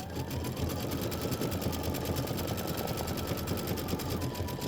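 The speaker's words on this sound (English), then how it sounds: "Now I'm going to go ahead and just let it do the satin stitch." An embroidery sewing machine runs a long satin stitch in a dense, fast, even whir that holds steady and close throughout, with no voices.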